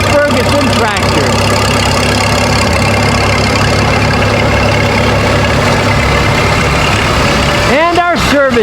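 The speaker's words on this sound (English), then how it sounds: "1953 Massey Ferguson tractor." A 1953 Massey Ferguson vintage tractor engine idles steadily in a parade, a low continuous rumble with constant harmonics under crowd noise, with a brief rising whine near the end.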